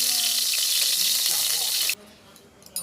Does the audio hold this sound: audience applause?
no